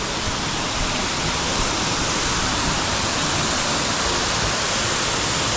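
A waterfall in Bali roars as a steady, loud, dense rush of falling water that fills the whole span without a break or any voices.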